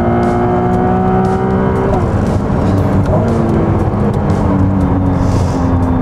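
A Ferrari 296 GTB V6 engine roars loudly and close, climbing toward its 8000 rpm redline, dropping pitch at a gear change and then rising again.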